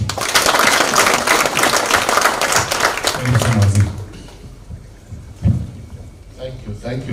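Applause welcomes a minister at a Nyeri County primary care network strategy event. A dense, loud burst of clapping fills the first four seconds, then dies down into quieter room noise.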